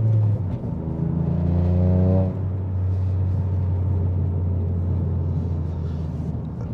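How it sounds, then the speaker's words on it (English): Toyota GR Yaris exhaust under acceleration, a loud rising engine note that drops at a gear change and then settles into a steady deep drone, close and continuous. "Exhaust just set the car alarm off."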